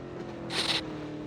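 An electric minibus in the video game PUBG: Battlegrounds hums with a steady drone throughout, briefly swelling with a brighter, noisier whoosh in the middle before settling back to its even tone.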